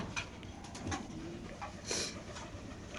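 Pigeons at a busy pigeon market coo softly, with low throaty calls and a few sharp chirps over a steady murmur of background crowd noise, moderately distant.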